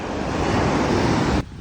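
Sea waves wash ashore in a steady, loud rush of broadband surf noise with wind buffeting the microphone, lasting most of the moment before cutting off abruptly.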